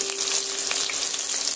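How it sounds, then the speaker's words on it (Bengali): A bay leaf and chopped onion fry in hot oil in a pan, giving a loud, steady sizzle with crackling pops and faint stirring, and no voices. "পেঁয়াজটা দিয়ে আমি পেঁয়াজটা সুন্দর করে একটু লাল লাল করে ভেজে নেব"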